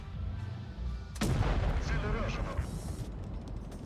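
In World of Tanks Blitz, a single loud tank cannon blast from a Leopard booms after a quiet engine rumble, followed by a rolling echo and debris-like rattle fading over a few seconds.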